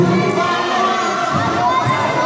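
A dense, loud crowd roars and shouts throughout at a basketball game, a continuous wall of cheering voices from the stands.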